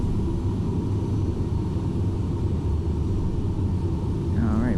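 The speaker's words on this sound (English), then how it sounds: "Getting onto the runway now." A Delta airliner taxis onto the runway in the X-Plane flight simulator, a steady low engine rumble with a faint whine that holds evenly throughout and has no talk over it.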